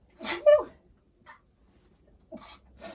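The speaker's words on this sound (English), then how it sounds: "I'm going to sneeze." A single sharp sneeze up close, followed by quiet breathing and a couple of faint vocal sounds.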